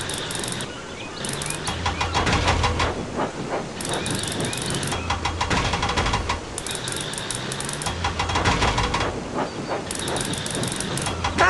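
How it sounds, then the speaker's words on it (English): Continuous hissing of steam over rhythmic train chugging and clanking from the video game Thomas and Friends: Magical Tracks, loud and steady, with short breaks and surges in the hiss. "Can you help Cranky the Crane unload our friendly engine"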